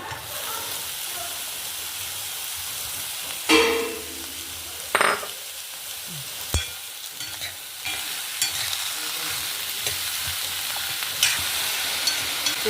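Onion and white pumpkin pieces fry in a tablespoon of ghee, a steady close sizzle with several louder stirring scrapes and clatters across the pan throughout.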